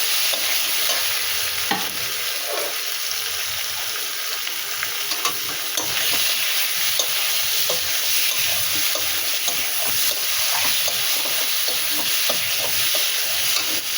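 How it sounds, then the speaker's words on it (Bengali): Potatoes and radish frying in spices in a pan, a constant bright sizzle with repeated scraping stirs and light clinks throughout, no talking. "মশলাটা ভাজা করছে তার মধ্যেই আমি আলু আর মূলটা দিয়ে দেব"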